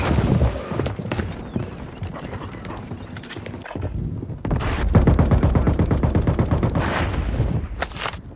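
Video game gunfire rattles in bursts of rapid shots, sparser at first, then a louder, denser volley takes over midway and continues to the end.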